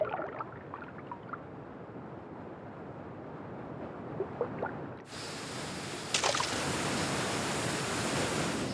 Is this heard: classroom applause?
no